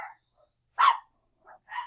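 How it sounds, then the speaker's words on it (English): A dog barks nearby, one strong bark followed by two shorter, softer yips in an otherwise quiet room. "Okay, dog's barking."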